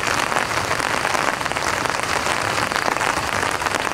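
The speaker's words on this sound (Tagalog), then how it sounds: "Ayan, medyo ulan na." Steady, dense rainfall pattering on a surface at a riverside campsite in the late afternoon, continuous and fairly loud throughout with no voices.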